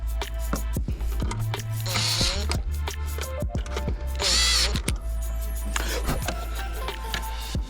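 Car radio being fastened into a dash mounting kit with screws for a Kenwood install in a 2008 Honda CR-V, with close bursts of power-driver whirring between clicks and clattering handling noises.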